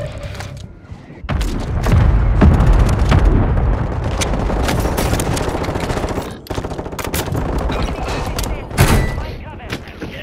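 Gunfire from a Glock and other weapons in a Call of Duty Warzone match on Rebirth Island, with sharp repeated shots, rapid bursts and a few booming hits, loud and close.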